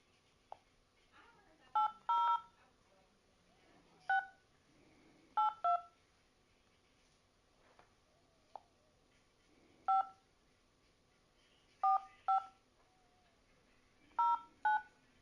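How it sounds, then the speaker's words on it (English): Phone keypad dialing tones sound in short sharp beeps, single and paired presses scattered irregularly across a quiet background, clear and close, with no talk over them. "Oh, my phone is acting crazy."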